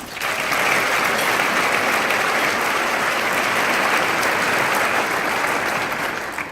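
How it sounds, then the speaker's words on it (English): A crowd applauding steadily for several seconds, a dense wash of clapping that swells quickly and holds at a fairly loud, even level. "a big round of applause"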